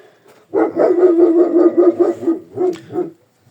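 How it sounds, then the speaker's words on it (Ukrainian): A dog barking in a rural yard: a long, loud, close run of howling barks followed by two shorter barks, heard alone with no talk. "Собака знову гавкає."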